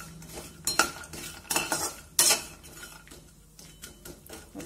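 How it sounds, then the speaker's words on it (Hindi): Almonds and cashews tumble and are stirred in a pan while roasting over low heat, producing a few sharp clattering scrapes and rattles of the spatula against metal with quieter shuffling between. "अब इसी में हम पहले ये बादाम डाल देते हैं और काजू भी डाल देते हैं। इनको 1 से 2 मिनट धीमे आंच पे रोस्ट कर लेंगे।"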